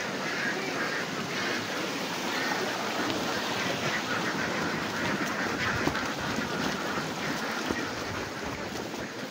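A large flock of ducks quacks continuously in a dense, steady chorus with no people speaking, filling the scene at an even, fairly loud level with no pauses.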